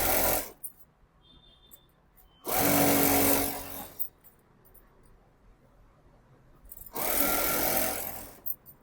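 A sewing machine stitching straight-cut trousers runs in three separate bursts of steady mechanical whirring, each lasting about one to two seconds. Quiet pauses separate the bursts, and no one speaks.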